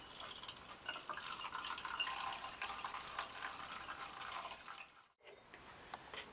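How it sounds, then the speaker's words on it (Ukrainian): Homemade grape chacha brandy trickles through a filter into bottles, a soft continuous pouring and dripping, quiet and close, stopping briefly near the end before resuming. "І потихеньку розливаємо виноградну чачу у кожну пляшку."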